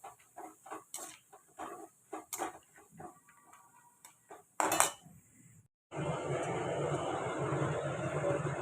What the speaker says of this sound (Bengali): আর এই দেখো পাঁপড় ভাজছি